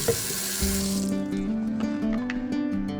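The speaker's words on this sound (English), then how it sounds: "We start by adding 2 liters of water to the sprayer bottle." Water pours from a tap into a plastic sprayer bottle while two liters are added, a continuous splashing gurgle whose pitch rises steadily as the bottle fills.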